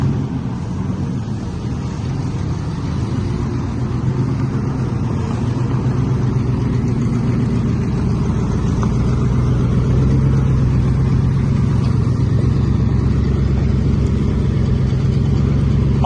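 A 1971 International Harvester Loadstar truck drives slowly out of a shed, its mid-pitched engine rumbling steadily and close for the whole stretch, with a slight rise in revs toward the end and no talking.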